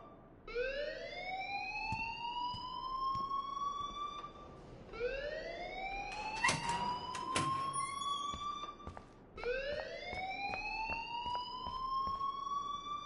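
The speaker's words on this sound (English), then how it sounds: "please turn off that alarm since that's your job" A rising, sweeping electronic alarm wails in the Life is Strange video game, three long upward-gliding tones repeating loudly over about thirteen seconds, with brief clicks and a short burst of noise partway through.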